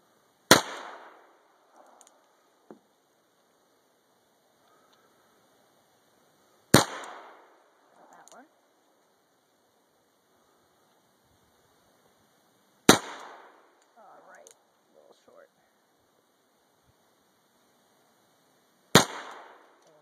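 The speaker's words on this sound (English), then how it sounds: "that's proof that Heidi knows how to shoot" Four sharp, loud gunshots ring out about six seconds apart, each a single crack with a short echo, separated by near silence and a few faint handling noises.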